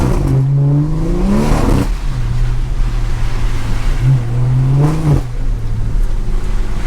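A BMW 340i xDrive with a straight-pipe exhaust revs hard twice, each loud rasping climb falling back to a deep drone that holds steady between pulls, close and without speech.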